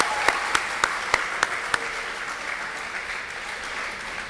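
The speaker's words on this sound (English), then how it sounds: "Please clap for Mrs. Utai." Applause rings out at a school closing celebration for Years 7 to 11, opening with a few sharp, distinct claps before settling into a softer, steady patter of hands that carries to the end.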